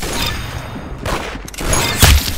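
Rapid bursts of gunfire from a mobile competitive shooter game ring out loud and dense, with a sharp heavy shot near the end and no talking.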